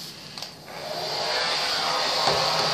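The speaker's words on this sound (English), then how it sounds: "Then I take my blow dryer" A blow dryer runs on low heat over a wirehair dachshund being groomed, a steady whooshing hum that swells slightly louder after a brief dip near the start.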